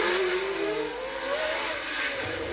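A 1981 Williams Formula 1 car driven by Alan Jones at the Monaco Grand Prix screams past with a high engine note rising in pitch as it accelerates, loud and continuous over crowd-like background noise.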